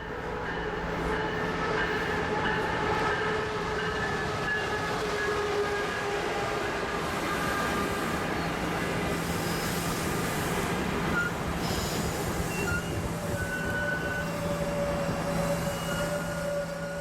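A Coaster commuter train rolls into a San Diego station. A steady, loud rumble of wheels on rail is joined by faint squealing tones from the wheels or brakes.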